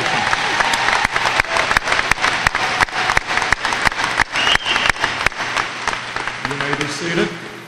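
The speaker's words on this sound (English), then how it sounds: "Please give them a round of applause." Graduation audience applauding a group of high school seniors for their scholarships, a sustained stretch of sharp, dense clapping filling a large hall, with some crowd murmur and a voice briefly audible near the end.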